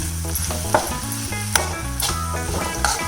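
Continuous sizzling of curry in a hot pan with a spoon scraping and stirring after coriander leaves are added, a few sharper metal taps standing out at irregular moments.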